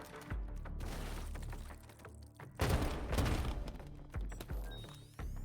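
Dense bursts of video game gunfire from a competitive free-for-all match crackle and thud in rapid volleys, with heavy impacts and shattering hits, loud and continuous throughout.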